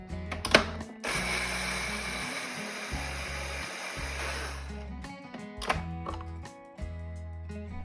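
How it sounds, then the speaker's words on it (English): Blender grinding oats into fine flour in a kitchen, loud whirring bursts that start and stop repeatedly, close up and alone without speech. "Into a blender, add some oats and grind them into a fine powder."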